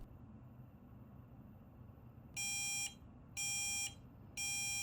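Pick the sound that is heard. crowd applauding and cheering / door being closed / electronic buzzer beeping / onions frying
electronic buzzer beeping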